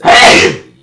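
A single loud, close sneeze, a sharp burst that quickly trails off into a short breathy tail.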